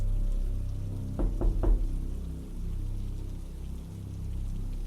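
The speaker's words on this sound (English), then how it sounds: "it sounded like somebody was knocking from inside the large closet next to the bathroom" Three quick, close knocks on a wooden surface, then quiet, over a steady low rumble like a storm.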